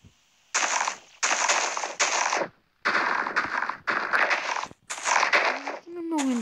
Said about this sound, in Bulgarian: Изстрелва снежни топки, които се взривяват.